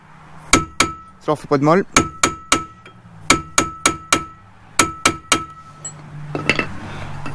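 A hammer strikes a Renault Twingo brake disc to loosen it: sharp metallic blows land in quick bursts of three or four, about fifteen in all, close and loud. Someone says a short phrase midway.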